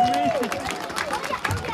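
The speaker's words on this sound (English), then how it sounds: "Give them a big round of applause." Crowd applause for the Dunoon Redcoats on a pier, steady dense clapping with some chatter through the burst, fairly close and loud.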